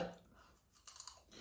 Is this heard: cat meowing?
no